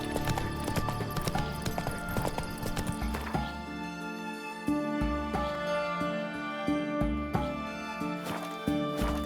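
Roach, the horse in The Witcher 3 video game, gallops with a steady, rhythmic clip-clop of hooves, close and clear beneath a continuous bed of game music.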